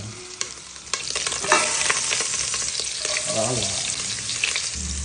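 Close, continuous stirring and scraping in a pot of boiling chicken broth with onion, siling labuyo, green chili and lemongrass, a bubbling sizzle running throughout with utensil clinks.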